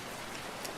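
Steady rain ambience fills a cozy studio on a rainy day, a soft, even wash of falling drops with no breaks, and one brief brighter patter near the end.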